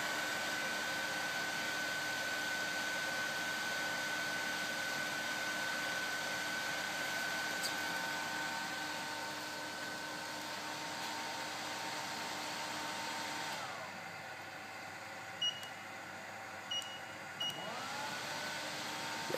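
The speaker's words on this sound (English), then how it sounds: "Right now the cooling fan's running, cooling the board off." A cooling fan runs on a BIRD 8888 SD2P2 rework machine to cool an Xbox circuit board, a faint steady whir with a thin whine that drops away partway through, followed by a few soft ticks.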